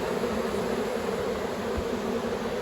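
A honeybee swarm entering a hive box makes a dense, steady buzzing drone, close and unbroken throughout.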